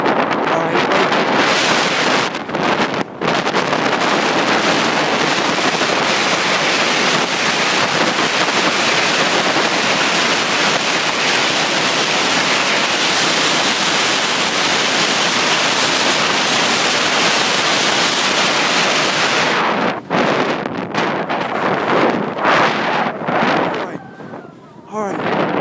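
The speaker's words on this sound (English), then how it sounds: "Man, it's windy." Strong wind buffets the microphone during a bike ride, a loud continuous rumbling roar that drops out briefly a couple of times near the start and end.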